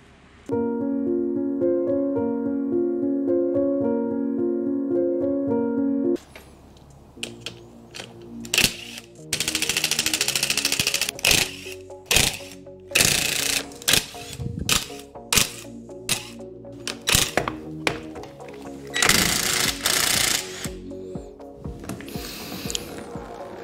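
A thread-cleaning tool runs on the threads of a Dana 41 rear axle: a steady tonal whine for about six seconds, then a string of irregular scraping, rattling bursts with short pauses between them.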